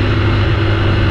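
Truck on a dirt road in rural northern Vietnam, a loud close heavy engine drone rumbling steadily as it passes.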